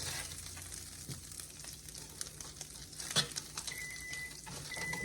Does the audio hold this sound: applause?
no